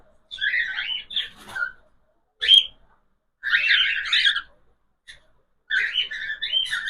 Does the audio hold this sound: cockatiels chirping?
yes